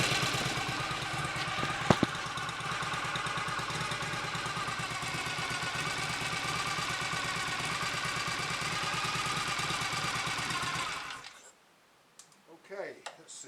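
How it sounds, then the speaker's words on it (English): A BSA A65 Lightning Clubman motorcycle engine runs after adjustments, idling loud and steady with a rapid, even chatter for about eleven seconds before cutting out to near silence and faint handling noises. "give it a kick and see if it will burst into life with no throttle"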